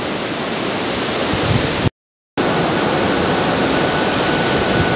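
Strong wind rushing through trees in the Missouri countryside as a loud, steady roar that drops out for a split second and then returns just as strong.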